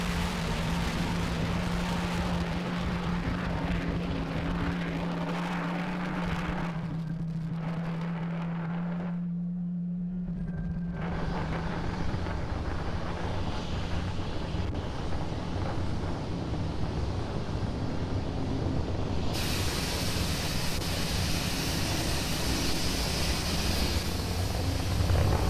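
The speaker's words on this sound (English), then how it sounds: "Falcon 9 has had a successful liftoff from pad 39A" A SpaceX Falcon 9 rocket lifting off from pad 39A produces a long, continuous broadband roar and rumble, heard from a distance with wind-like buffeting throughout.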